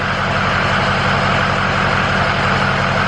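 A 6.0 PowerStroke diesel truck engine idles steadily up close just after starting, a continuous low rumble with a mechanical clatter and no voices, holding constant throughout.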